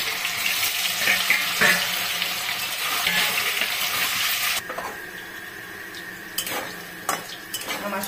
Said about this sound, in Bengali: এখন বাদবাকিগুলো আমি এইভাবেই তেল কষে দিয়ে ভেজে নেব